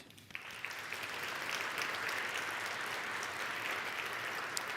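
Applause swells quickly and holds steady from a crowd at a Finnish game awards ceremony, a continuous, moderately distant clatter of many hands after a keynote speaker.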